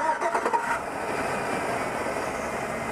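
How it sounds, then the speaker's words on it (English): A car engine with a random multiple-cylinder misfire fault cranks with a few quick chugs, catches, then settles into a steady, smooth idle close by. "go ahead, start it up"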